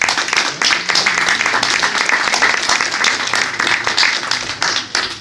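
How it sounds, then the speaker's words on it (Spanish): Sustained crowd applause at a book fair literary panel in New York, dense steady clapping from a sizable audience that holds for the whole span with slight swells, filling the room without talk. "vamos a despedirlo con un fuerte aplauso."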